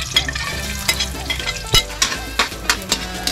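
Ginger sizzling and frying in oil in a hot pan, with steady crackle and repeated stirring scrapes, loud and close, no voices.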